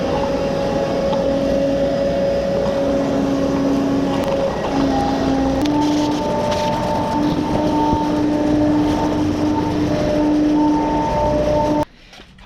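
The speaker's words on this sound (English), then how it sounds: "Let's go ahead and head back inside and start some vacuuming." A loud shop vac drones steadily through the rooms of a house, its whining motor holding a sustained tone that wavers slightly in pitch before cutting off abruptly near the end.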